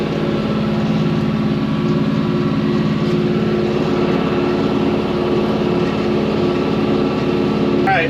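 A mower cutting a hay field on a cattle farm drones steadily and loudly up close, a constant engine hum with no breaks.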